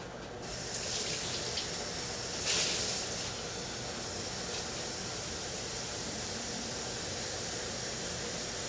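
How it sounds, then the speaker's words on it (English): Tap water gushes steadily into a pot for French onion soup, a loud continuous hiss and splash from a kitchen faucet that holds an even level throughout, with no one talking. "now I'm going to get 2 quarts of water"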